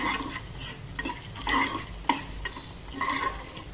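Lemon rice tempering with turmeric being stirred in a hot pan, a spoon scraping and clattering through a steady sizzle with a sharper knock partway through.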